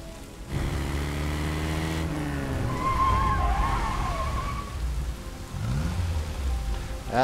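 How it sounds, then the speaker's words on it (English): Vehicle pulling up in heavy rain in Phantom Doctrine, a steady engine hum that shifts pitch as it arrives and slows, under constant rainfall and a brief high screech midway, no talk. "And the vehicle is arriving."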